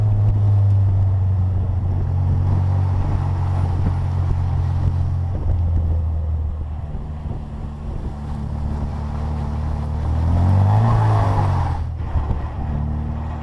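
Engine of a 1960 Bugeye with a five-speed gearbox, droning low and steady as the car drives, with pitch shifts near the end and wind buffeting the microphone; no talk.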